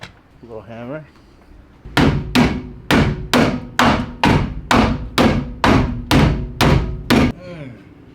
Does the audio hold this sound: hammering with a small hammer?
yes